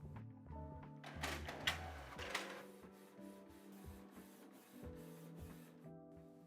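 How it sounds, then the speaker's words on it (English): A small budget inkjet printer running an art print on high quality, its print head shuttling back and forth in repeated whirring passes with mechanical clicks and paper-feed thunks, close and fairly quiet. "And then I'll just click print."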